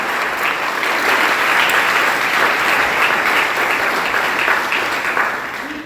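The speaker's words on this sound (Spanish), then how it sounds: "Denle un aplauso fuerte al Señor, mi hermano" Church congregation giving loud applause, a dense, even roar of clapping that holds steady for several seconds before easing slightly at the end.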